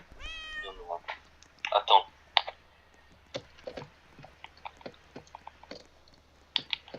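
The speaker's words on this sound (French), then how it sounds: "Il y a un chat en haut, il y a un chat en haut." A cat meows in a short rising call amid Roblox game sounds, set in sewers, with people chatting over it.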